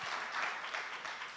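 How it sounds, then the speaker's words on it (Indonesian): A church congregation claps during a worship service, a broad, steady wash of applause with no clear individual claps, moderately distant and lasting under two seconds. "Beri tepuk tangan dulu buat Tuhan Yesus."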